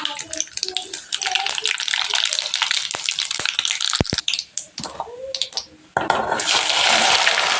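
Tempering (vaghar) for khaman in hot oil: crackling pops and spatters build into a loud, steady hiss of sizzling oil, with a voice speaking briefly.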